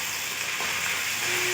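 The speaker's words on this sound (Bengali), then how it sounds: "এদিকে আদা রসুন পেঁয়াজ ভাজা হতে থাক" Ginger, garlic and onion fry in a pan for a mutton curry, a steady close sizzle with faint stirring scrapes and a brief ring of utensil near the end, no voices.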